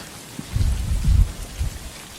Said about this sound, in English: A summer thunderstorm is something to be experienced out here in the desert.